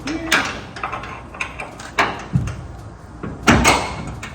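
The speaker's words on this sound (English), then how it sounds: "And the door shuts." A swapped-out door, still missing its lock so it won't latch, swings shut with several soft knocks and thumps spread over a few seconds, close by, with someone talking around them.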